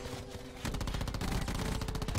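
Call of Duty gunfire, a rapid automatic burst that starts abruptly after a short lead-in and keeps up a steady, loud stream of shots to the end.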